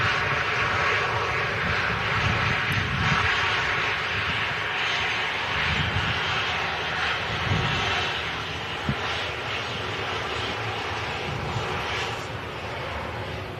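An airplane landing at an airport, heard from a distance as a steady, broad engine roar that swells and eases over several seconds, with no voices.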